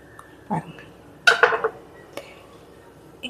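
A knife cuts through a piece of soft homemade paneer on a plate, producing a couple of muffled clinks and a brief scraping scrape of metal on dishware, fairly close and quiet with no talk.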